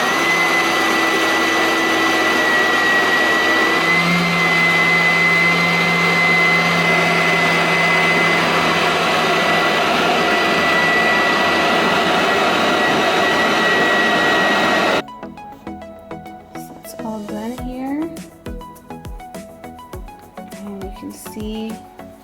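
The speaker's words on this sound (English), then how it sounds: "All right, so we'll just blend that up." A high-power blender whips a protein ice cream shake, a loud, steady motor whir lasting about fifteen seconds before it cuts off and quieter handling sounds follow.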